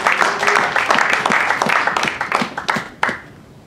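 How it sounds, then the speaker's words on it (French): Christians at a church teaching on repentance applaud for the Lord, a loud, dense burst of clapping that thins into a few scattered claps and fades, with faint voices mixed in. "sois fiers et applaudissez pour votre Seigneur"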